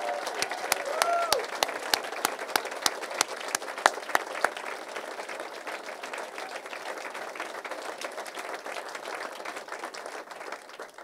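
A crowd at a housing bill signing ceremony gives a long round of applause, dense steady clapping with a few louder near claps standing out, and voices faintly mixed in under it.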